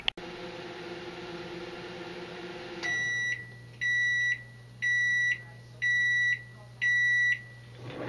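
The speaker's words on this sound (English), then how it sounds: "the microwave has stopped" A microwave oven heating a cup of plastisol finishes with its hum cutting off, then gives five evenly spaced electronic beeps, clear and close.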